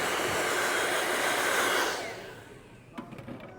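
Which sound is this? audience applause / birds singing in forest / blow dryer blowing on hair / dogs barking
blow dryer blowing on hair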